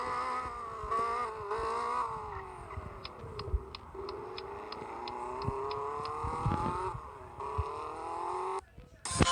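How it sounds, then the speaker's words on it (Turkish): Tofaş car engine with open exhaust in a video game, a steady droning hum with a rising and falling pitch and a run of faint ticking clicks, continuous throughout and ending in an abrupt cut. "Sadece bir egzozu açarım giderim."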